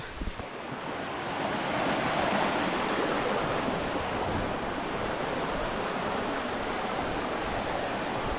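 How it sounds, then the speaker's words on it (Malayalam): Rushing water roars steadily and continuously at the base of Kuthunkal waterfall in Malayattoor, a broad constant whoosh of falling water, with no voices. "ഇതിങ്ങനെ ഒരു ഹിഡൻ വെള്ളച്ചാട്ടമാണേ മലയാറ്റൂരിലെ"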